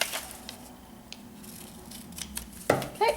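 Scissors snip through a thin metal pattern piece, leaving a soft scraping and rubbing texture with a few sharper cuts near the end, close and fairly quiet, with no talking.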